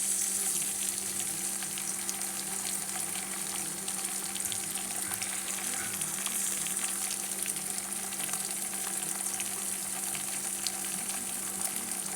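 Ginger-garlic paste fries gently in oil for a vegetable curry, producing a soft, continuous hiss and light crackle at moderate distance, steady for the whole stretch with a low background hum.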